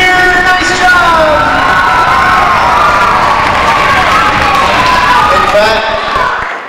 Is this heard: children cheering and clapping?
yes